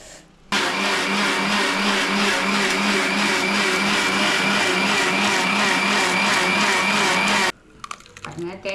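A kitchen blender grinds coconut with a little water and cardamom in a loud, steady whirring burst of about seven seconds that starts and stops abruptly, with faint clatter afterward.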